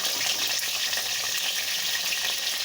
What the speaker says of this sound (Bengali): আমি যে কেটে রেখেছিলাম আলুগুলো তেলের মধ্যে দিয়ে দেব।